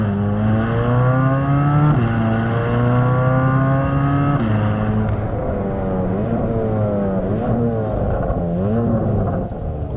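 A Chevrolet Corvette C8 Z06 running down through the gears, its exhaust note stepping up in pitch with each crisp downshift blip, loud and near, followed by rising part-throttle acceleration.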